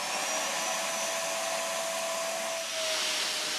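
An LG Kompressor LuV250C upright vacuum cleaner running steadily, a loud, continuous high-pitched whine and airflow roar with a brief dip in pitch near the end, close up and without talk.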